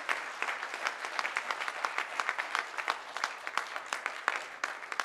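An audience at a memorial lecture series claps to welcome a professor, steady dense applause from many hands, moderately close and with no voices over it.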